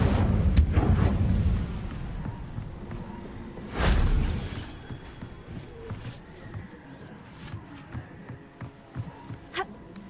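An Incendio fire spell cast in Hogwarts Legacy: a loud whooshing burst near the start, a second booming flare about four seconds in, then scattered crackles and thuds fading to quieter ambience.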